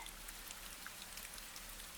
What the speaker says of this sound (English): Drops collect along the edge of the roof and fall in a steady row.